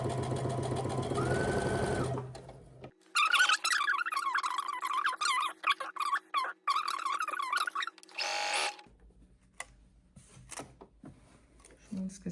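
A sewing machine stitches a drawstring casing on a blouse in short bursts of rapid whirring with pauses between, alongside brief handling clicks, sounding close and moderately quiet.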